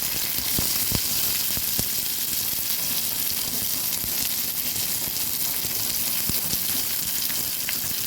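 Chopped onion fries in mustard oil with a continuous close hiss and crackle, occasional sharper pops breaking through the steady sizzle, and no voices.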